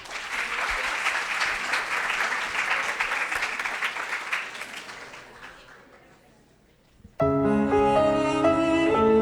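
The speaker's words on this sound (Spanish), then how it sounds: "Un fuerte aplauso para ella." An audience at a teacher-training scholarship event applauds steadily for about five seconds, then the clapping fades out and loud music begins.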